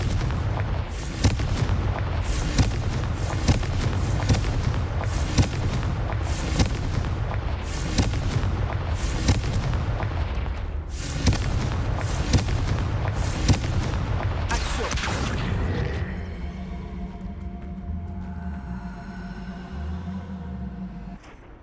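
Explosive Confringo spell blasts in the Hogwarts Legacy video game, a dense run of loud booming impacts repeating roughly every second for about fifteen seconds, then fading into a lower rumble with game sounds.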